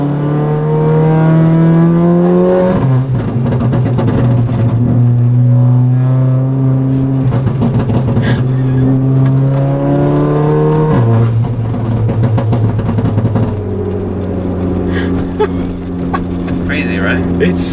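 A Mercedes CLA 45 AMG wide body with a very loud exhaust revs hard nearby, its engine pitch climbing and dropping in repeated waves with crackles, running continuously and close throughout.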